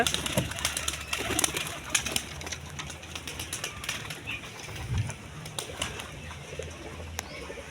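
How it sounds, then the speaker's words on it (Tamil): Karna tumbler pigeons in a loft, with soft cooing and bursts of wing flapping over a steady busy background of birds, fairly close and continuous. "எல்லாமே கர்ணப்புறா தான் ஒன்றை தவிர"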